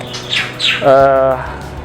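A white-rumped shama (murai batu), a cross of Bahorok and Blorok lineages, sings a few close, bright notes: quick rising whistles followed by a longer, rich warble.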